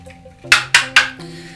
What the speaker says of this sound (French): Vous remuez de sorte à faire dissoudre le sucre dans l'eau.